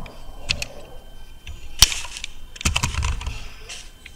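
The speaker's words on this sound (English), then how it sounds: "Now here I will type Delhi" Keys clack on a computer keyboard while a replacement value is typed into an Excel find-and-replace box, a short burst of close, crisp taps with a louder keystroke in the middle.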